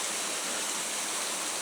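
A waterfall at Yugano hot spring in Shizuoka roars in a dense, steady rush of falling water, loud and close, constant throughout with no voices over it.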